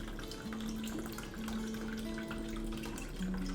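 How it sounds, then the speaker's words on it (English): Water poured into a small wooden cocktail aging barrel before the spirits go in, a steady trickling and gurgling stream that runs continuously at close range with no talking. "put water in it before you put the booze in it"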